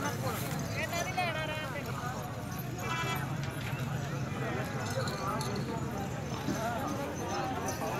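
Cart mares and horses at a livestock market, hooves clip-clopping faintly in the background beneath continuous talking and crowd chatter.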